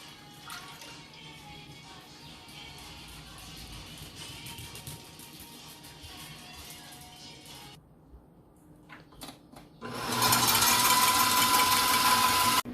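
An electric mixer beats 2.5 cups of heavy cream on medium speed, starting as a quieter rattling whir, then after a pause switching to a loud, steady close buzzing drone for the last few seconds, with no talking.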